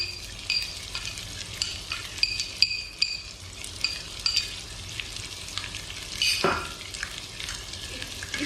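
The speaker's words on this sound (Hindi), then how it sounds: "इसको आपने तकरीबन 2 मिनट फ्राई करना है" Beef karahi frying with black and white pepper, a continuous soft sizzle broken by the scrape and clink of a spoon stirring in the pot, close and fairly quiet, with no one talking.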